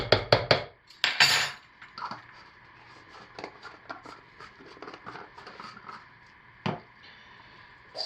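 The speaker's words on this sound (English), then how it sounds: "Stir it in." A spoon clinks and scrapes against a cup or glass as a heaping teaspoon of powder is stirred into a drink, with a few sharp metallic knocks at the start, then lighter, scattered scraping taps and one more clink near the end.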